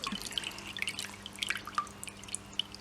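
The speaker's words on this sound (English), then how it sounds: "you've got all your initial water dripping right off" Water drips and trickles off waterproof PUL (polyurethane laminate) fabric just lifted from a full soak, giving a scatter of small, quiet, irregular droplet ticks and splashes over a soft background.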